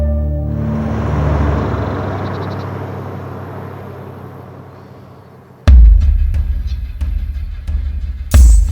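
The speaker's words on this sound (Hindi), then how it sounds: "धर्म, गाड़ी निकाल।" A car being taken out runs with a low, throbbing engine rumble that slowly fades, then a sudden loud surge of engine noise follows, broken by sharp knocks and clicks, close by and with no one speaking.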